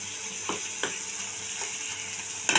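Fish fat and swim bladder frying in oil, a low steady sizzle marked by occasional scraping stirs from a utensil, with a louder clatter right at the end.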